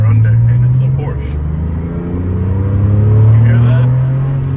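A manual Porsche engine accelerates with a loud, close, rising rumble, steady throughout with a slight swell near the end.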